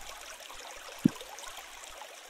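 Steady broadband rush of a flowing stream in a video game, continuous and moderately quiet throughout with one brief low thump near the middle.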